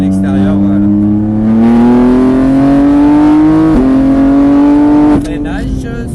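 Rally car engine revving hard and climbing in pitch as it accelerates after the brake is released, loud and close with a brief gear-change dip near the end, under a co-driver's spoken instructions.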